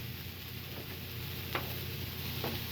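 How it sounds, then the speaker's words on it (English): Onions sizzle softly in a pan, nearly sautéed, with a quiet continuous frying hiss and a few light taps from stirring. "Saute these lovely onions. It's just about sauteed."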